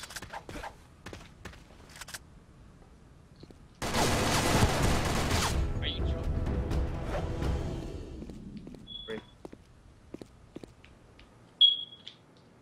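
Video game gunfire comes as a dense, loud burst of rapid shots lasting about two seconds, followed by scattered single shots, clicks and a short electronic beep in a quieter game scene.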